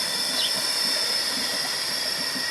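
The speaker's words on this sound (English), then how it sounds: "can hear some air as some water rushes in" A steady, even hiss of air and water rushing through swimming pool filter plumbing, constant and fairly loud for the whole stretch, with no voices.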